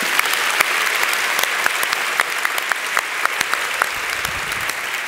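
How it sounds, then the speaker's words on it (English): A concert audience at a music-and-mind event applauds the scientists with dense, sustained clapping from many hands that fills the whole stretch, steady and fairly loud with sharp individual claps popping out. "How about another round of applause for all of our scientists?"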